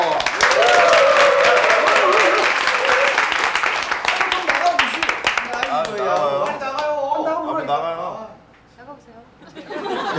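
A studio audience on a Korean sitcom set claps loudly and quickly for about five seconds. The applause then thins out beneath talking voices, chatter and a few chuckles.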